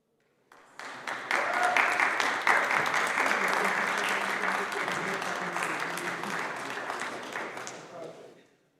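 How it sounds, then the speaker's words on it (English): An audience at the Inércia 2024 demoscene showcase breaks into applause, swelling quickly to a full, steady clapping that holds for several seconds before tapering off, with a faint voice briefly heard. "Round of applause, please."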